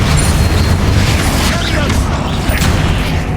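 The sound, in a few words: Bombarda and Confringo spell explosions in Hogwarts Legacy video game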